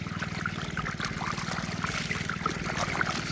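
Water sloshing and trickling through a small mini gold sluice on the Fraser River, a steady continuous wash with a low rumbling undertone and no speech.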